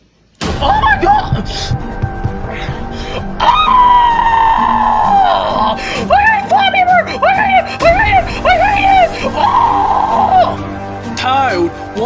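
A cartoon toad character screams and shrieks in long, loud, wavering cries over a game of Flappy Bird, with shouted exclamations rising and falling for several seconds alongside thumping noises.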